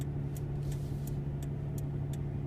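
A car drives through a residential neighborhood, giving a steady low engine and road drone close up, with faint regular clicks over it and no talking.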